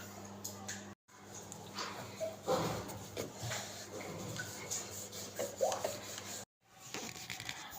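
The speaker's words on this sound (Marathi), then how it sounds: "आता आपण मस्तपैकी धपाट लाटून घेणार आहोत।" Rolling pin pressing and rubbing methi dhapate dough, fenugreek flatbread, on a board: a steady nearby rasping scrape with uneven surges, broken by two short pauses, with no talk over it.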